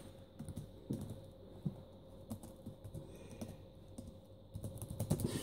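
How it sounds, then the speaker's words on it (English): Steady touch typing on a Compaq Armada E500 laptop keyboard, a close run of quick, even key clicks with no voices. "properly touch type, not just kind of two-finger tapping"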